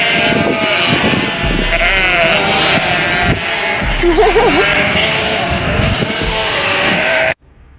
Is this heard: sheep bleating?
yes